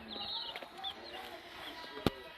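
Hen clucking in a backyard chicken coop, soft scattered clucks under steady outdoor background noise, with one sharp knock near the end.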